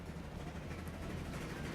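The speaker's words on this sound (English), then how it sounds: "And here comes our passenger train." A passenger train arrives in the video game Transport Fever with a steady, low rolling rumble and faint rail clatter, heard alone at a moderate level.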